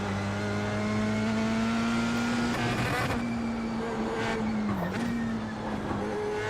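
A Dallara Indy NXT open-wheel race car in a sim racing game, its engine note droning steadily with pitch shifts as it accelerates and brakes through corners, loud and continuous with faint tire noise and no talk.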